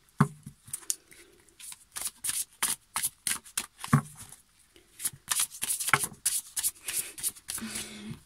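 A deck of cards is shuffled close by in crisp, riffling bursts separated by brief pauses, fairly loud and with no talk over it.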